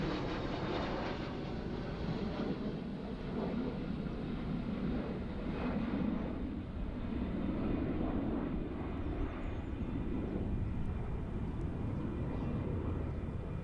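Su-30 fighter jets pass overhead during a large parade celebration in Vietnam, a steady broadband jet roar that stays loud and even throughout with no voices.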